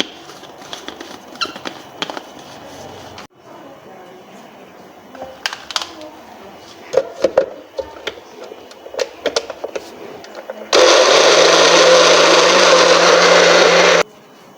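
An electric blender grinds spices with about 30 ml of water for coriander fried chicken, running loud and steady for about three seconds near the end after scattered kitchen clatter and taps.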